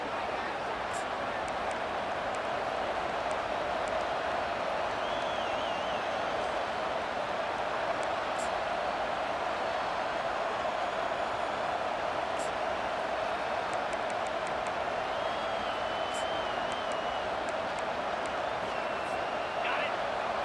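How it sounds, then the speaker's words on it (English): A football stadium crowd at a Florida versus Texas A&M game roars in a dense, continuous wall of noise with faint scattered whistles and shouts rising above it. "This crowd bringing the energy and noise early"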